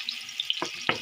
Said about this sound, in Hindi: तो इसके साथ मैं ऑयल डाल देता हूँ अभी।